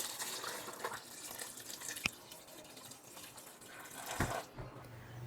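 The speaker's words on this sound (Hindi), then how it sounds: "तो अभी इसके अंदर मैं पानी ऐड करूंगा" Water is poured into a pot of beef being cooked for pulao, a steady splashing trickle with a sharp drip partway and a fuller gush near the end, close and fairly quiet, without voices.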